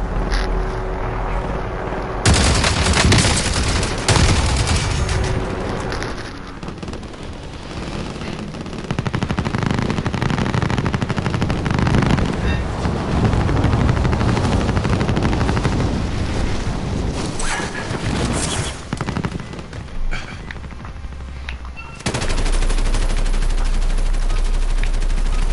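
Rapid machine-gun fire and booming explosions from Call of Duty: Modern Warfare gameplay, loud and nearly continuous with dense bursts throughout.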